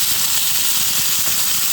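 A steady, loud frying hiss fills the whole stretch, an even sizzle of duck eggs frying in oil in a hot wok with no talking.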